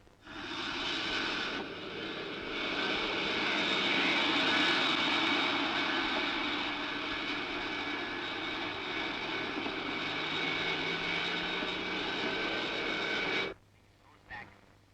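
Airplane engines roar loudly and steadily at an Indian Airlines flight departure in a Malayalam action film, a continuous jet drone that holds for about thirteen seconds before cutting off abruptly.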